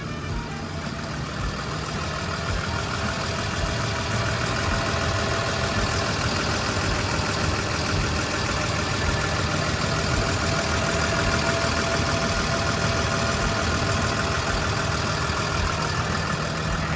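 A Hitachi ZW220-5B wheel loader's newly fitted engine idles quietly, a steady, even mechanical hum running unbroken from start to finish with no one speaking.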